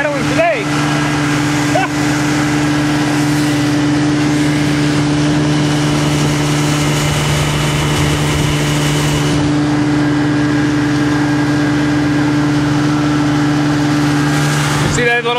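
A motorboat engine runs steadily and loudly throughout, a constant droning hum with wind rumble over it, close to the microphone, with no talk.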